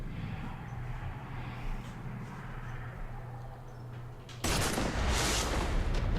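Gunfire in the video game Mass Effect 3: a low, rumbling game backdrop gives way to a sudden loud burst of shooting that carries on dense and sustained to the end.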